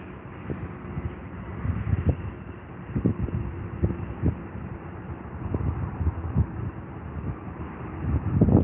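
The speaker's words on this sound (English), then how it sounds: "currently got 4 aircraft lined up for their final approaches here at London Heathrow" An aircraft on final approach at London Heathrow drones in the distance under gusty wind buffeting the microphone, with a low engine rumble that rises slightly toward the end.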